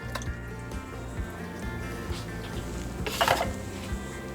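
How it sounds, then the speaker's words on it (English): Canned Rotel tomatoes pouring into a cast iron pot, a close wet glugging and dripping stream with a brief louder splash near the end, no talking. "We're also going to be putting in 2 cans of Rotel tomatoes, 10 ounces each."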